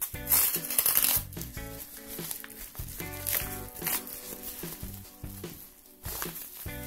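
A parcel package holding a puzzle cube being unwrapped, close crinkly rustling and tearing of wrapping under a steady musical background.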